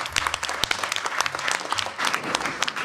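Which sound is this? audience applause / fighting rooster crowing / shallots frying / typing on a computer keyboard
audience applause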